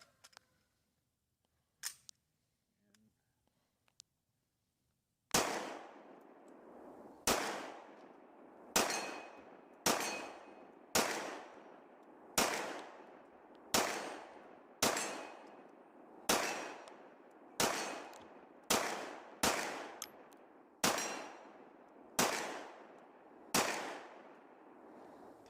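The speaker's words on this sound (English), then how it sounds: "we're going to try some lead rounds through this gun and see if they do" SAR B6P pistol firing homemade lead rounds at a steel plate: fifteen sharp, loud shots in a steady rhythm, each followed by a decaying ring, after a few faint handling clicks.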